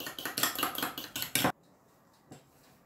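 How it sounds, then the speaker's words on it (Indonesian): A whisk or spoon beats egg yolk with milk in a bowl, giving quick rhythmic metallic clinks and scrapes for over a second before stopping abruptly, leaving quiet room tone with one faint knock. "Dan kita kocok ya sampai dia rata."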